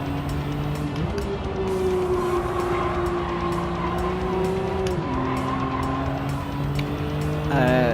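Stock car on sports hard tyres in the Gran Turismo 7 racing game, a steady engine drone that shifts pitch as the car changes gear, with a faint tire squeal near the end and no talking.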